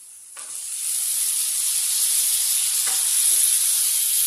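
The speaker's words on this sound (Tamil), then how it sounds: "தக்காளி மசிஞ்சு வர அளவுக்கு நல்லா வதவிப்போம்" Chopped tomatoes hit hot oil for a brinjal gravy, bursting into a loud, steady sizzle that carries on with brief stirring clicks and no voices.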